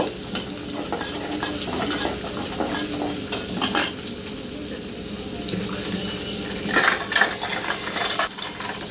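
Spices sizzle and fry in cooking oil while being stirred and scraped around the pan, a steady close crackle broken by sharper clinks of the utensil.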